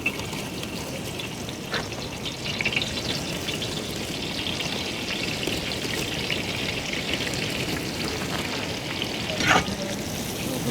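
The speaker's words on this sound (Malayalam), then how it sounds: "കുറച്ച് ഓയിലൊഴിച്ച് കുറച്ച് ഉള്ളി നല്ല ഗോൾഡൻ കളറിൽ നമുക്ക് വറുത്തെടുക്കണം." Continuous loud sizzling of onions frying in hot oil until golden, with a couple of brief stirring scrapes, steady throughout.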